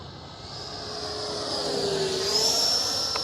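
A Freewing F9F-8 Cougar 80mm electric ducted-fan RC jet, carrying landing gear and ordnance, passes overhead with a steady whine that swells and peaks near the end. It flies alone in open air, with no voices.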